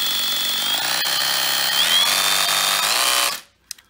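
Interskol PA-24/18V cordless rotary hammer drill runs at a loud, steady high whine for about three seconds, then stops abruptly and winds down, followed by a couple of faint clicks.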